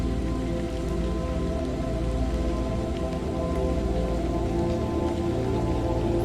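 Steady rain pours down across a surface, a dense continuous patter with a low rumbling bed, close and even throughout with no voices.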